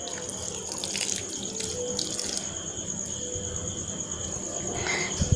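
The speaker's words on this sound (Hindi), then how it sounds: "इसमें और थोड़ा सा दूध ऐड करेंगे।" Milk poured from a container into thick pancake batter in a home kitchen, making a steady, soft liquid trickle that runs the whole time, fairly quiet and close, with no talking.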